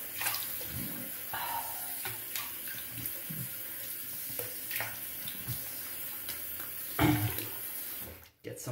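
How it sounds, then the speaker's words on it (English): Fresh tap water runs into a sink while a man rinses his face after shaving, with splashing bursts and hand-cupped scoops over a steady faucet flow, fairly close and moderately quiet. "Let me rinse up with some fresh water."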